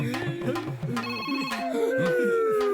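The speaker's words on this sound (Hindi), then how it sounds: "रुक रुक रुक रुक, फोन उठा, फोन उठा।" A melodic telephone ringtone plays in repeating electronic tones, close and fairly loud, looping steadily without any talking over it.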